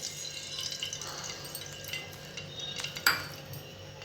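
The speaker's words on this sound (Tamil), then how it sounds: "இப்போ அடுப்பில் ஒரு பேன் வச்சுட்டு" A pan is set down on a kitchen stove, making one distinct metallic clunk near the end after soft, quiet clinks and rustling.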